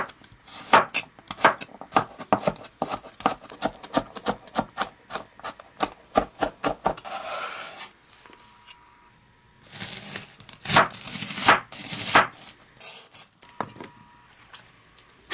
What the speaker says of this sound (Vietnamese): Tỏi thì mình xắt và băm nhỏ ra.